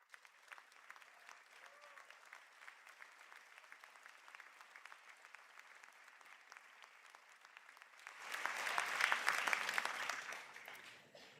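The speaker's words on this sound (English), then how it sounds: "I ask the graduates of the Bachelor of Business in International Tourism with Event Management" Applause from an audience at a university conferring ceremony in Sligo, greeting standing tourism and event management graduates; a faint, steady patter of clapping swells into louder, fuller applause near the end before easing off.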